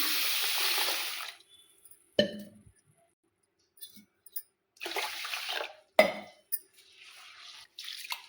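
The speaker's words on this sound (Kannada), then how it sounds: "3 ಸಲ ತೊಳಿತೀನಿ ನೋಡ್ರಿ. ನೀರು ಹಾಕ್ತೀನಿ ನೋಡ್ರಿ." Water poured over rice in a bowl to wash it for dosa batter: a close, hissing pour at the start, then splashing, sloshing and light clinks of the vessel in short bursts with quiet gaps.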